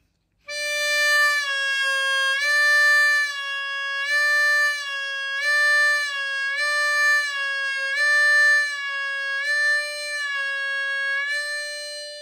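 A Marine Band harmonica in C plays a blues draw-note bend on channel 4, a clear reedy tone repeatedly dipping and rising in pitch in a steady rhythm, close and alone.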